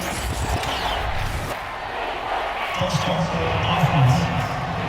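Loud stadium crowd roars and cheers continuously in Madden NFL 22, Carolina Panthers at Miami Dolphins, with a commentator's voice talking over the noise.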